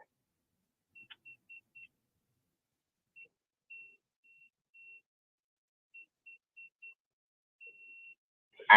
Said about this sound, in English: That's that beeping noise of the blow thing.